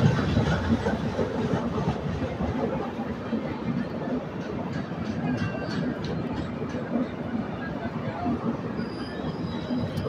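East Coast Express, train no. 18045, rumbles along steadily with a dense, continuous rolling roar from inside a 3rd AC coach, with faint faraway voices.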